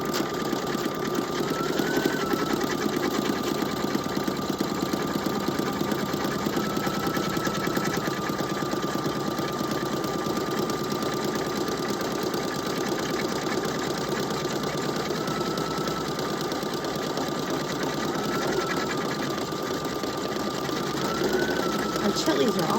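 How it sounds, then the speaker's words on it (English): An embroidery machine stitches a clear vinyl mason jar charm in the hoop, running a final finishing stitch around again; its steady, fast mechanical whir continues throughout at close range with small pitch shifts. "it's going to finish the stitch with a nice final finishing stitch, so it's going to go back around again to give it extra strength"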